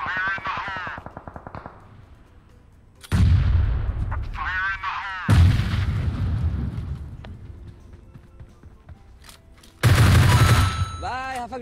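Gunfire in a battle royale video game sounds as loud bursts of rapid shots and booms at three points. Excited voices talk in between the bursts.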